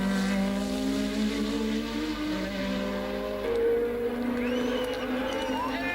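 Formula 1 cars at Hockenheim drone at steady high revs, one engine note shifting pitch as another car approaches, heard over a slightly distant broadcast-style mix with faint commentary underneath.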